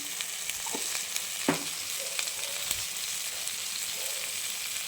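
Spice paste with tomato, ground cumin, ginger-cumin paste and turmeric sautéing in a pan, a soft continuous frying sizzle with a few faint scrapes and clinks, fairly quiet and without talk.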